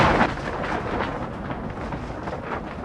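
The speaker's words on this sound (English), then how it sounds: "Sorry about the background noise, super windy here" Gusty wind buffets the microphone, producing low, rumbling blasts that rise and fall unevenly.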